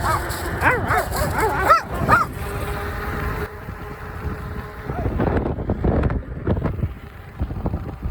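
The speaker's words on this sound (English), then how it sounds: "she wants me to watch out for the dogs up here for her, so we'll see what the dogs are doing today" Dogs bark in a quick run of loud, near yaps and woofs heard while riding an Ecotric fat tire electric bike outdoors, with wind rumbling across the microphone and further scattered barks later on.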